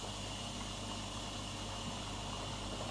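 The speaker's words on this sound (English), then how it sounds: "This was the sound during pumping of the water." A Bosch 6 Series washer dryer pumps out water with a steady low hum and a constant whirring drone. It is faint and even throughout.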